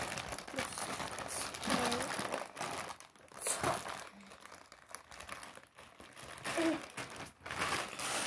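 A plastic bag of K'nex Education gear-set pieces is pulled and twisted open up close, giving continuous crinkling and rustling with small rattles of the parts inside.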